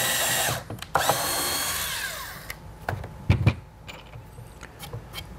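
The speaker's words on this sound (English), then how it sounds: "drill our final hole from the bottom up" A power drill whirs loudly drilling a hole in a wooden birdhouse, its motor winding down, followed by scattered knocks and clatters of handling.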